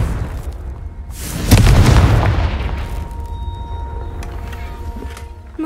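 A Confringo spell explosion in the video game Hogwarts Legacy, a single loud deep boom that decays into a long rumbling tail, with no talk over it.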